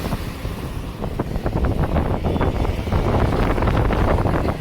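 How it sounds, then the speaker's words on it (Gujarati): Strong wind blows beside the Tapi river, buffeting the microphone with loud, gusty roaring and rumbling that builds slightly toward the end, with no voices. "પવન જો કેટલા જાય"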